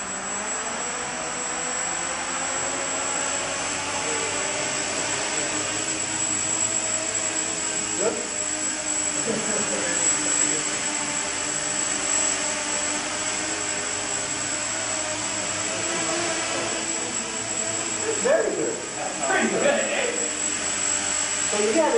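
A small quadcopter drone hovers and flies with a steady, loud, high-pitched whine that barely changes, while people talk quietly underneath.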